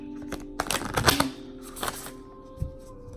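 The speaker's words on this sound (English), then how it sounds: "I'll put the cards here so you guys can see that I'm shuffling" Tarot cards riffled and shuffled close by in a few quick bursts of papery flicking, with soft handling sounds in between.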